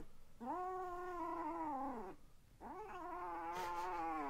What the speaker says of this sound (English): Damn, I've never seen a cat so small and so young, so ready for battle.